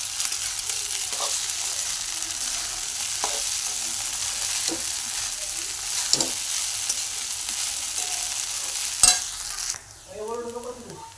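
A spoon stirring sabudana khichdi with peanut powder in a pan, a soft steady sizzle with periodic scraping strokes, close and alone, ending in a brief change of sound.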